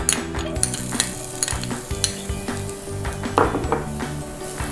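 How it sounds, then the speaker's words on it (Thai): Onions stir-fry in a pan for a Thai minced pork and tofu dish, with a continuous loud sizzle and repeated scraping and clinking of a utensil against the pan. "ขั้นตอนแรกนะคะผัดหอมใหญ่ค่ะ"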